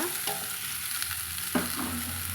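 Cut pieces of ash gourd drop into hot oil and sizzle steadily, with a sharper burst about halfway through as more pieces hit the pan, then a continuous close frying hiss with faint stirring.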